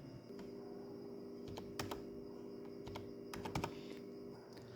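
Quiet clicks of keys on a computer keyboard as an amount is typed into MS Word, a few scattered clusters of taps over a faint steady hum, with no talking.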